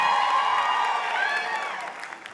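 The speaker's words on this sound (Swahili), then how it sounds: "Sipigie Yesu shangwe na vigelegele" Wedding procession crowd cheering with high, warbling ululation rising over a mass of voices and applause, loud and close, gradually thinning toward the end.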